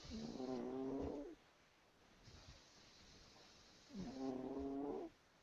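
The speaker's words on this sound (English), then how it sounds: "It sounds like a dog snoring." A sleeping dog snores in two long, rattling inhales a few seconds apart, close and moderately loud, with quiet breathing in the pause between them and no one talking.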